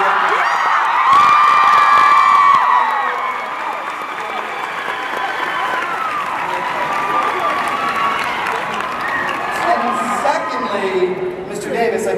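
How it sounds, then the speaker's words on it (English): A large Comic-Con panel crowd for Teen Wolf applauds and cheers for Dylan O'Brien, with loud, sustained clapping, shrill screams and whoops that swell early and stay dense throughout the hall. "we all just need to give a collective round of applause to Dylan O'Brien"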